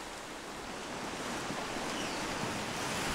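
Sea waves break against rocks along a Busan coastal walkway in winter, a continuous surging wash that builds slightly louder toward the end, close and steady, with wind in the background and no talking.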